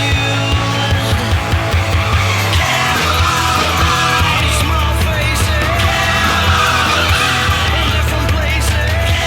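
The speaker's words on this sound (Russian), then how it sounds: "Эта тачка создана для неконтролируемого дрифта." An old Zhiguli car drifts with its engine roaring hard and its tires squealing and skidding continuously. Shouting voices are mixed in throughout.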